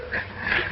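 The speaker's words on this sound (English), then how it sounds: "Are you sure this is the dog we want?" A dog whimpers in a short, close, continuous whine with a slight rise, loud and clear, with no talk over it.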